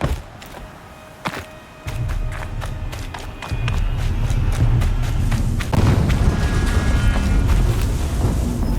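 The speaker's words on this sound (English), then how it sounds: "Explosion." Deep rumbling explosion in Horizon Zero Dawn at a massive dig site, opening with a few sharp thuds before a heavy, sustained low roar swells in and keeps booming to the end.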